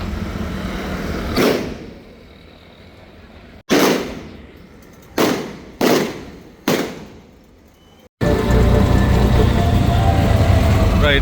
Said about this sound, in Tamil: அங்கால வெடி சத்தம் கேட்குது